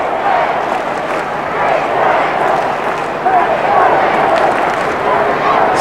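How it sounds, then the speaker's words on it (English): A large stadium crowd at the Gabba in Brisbane roars through an Australian football match between Brisbane and St Kilda in 1998, a dense, steady wash of voices that swells slightly toward the end beneath a commentator's voice. "So the Gabba crowd sensing a little bit of comeback here. The noise is rising."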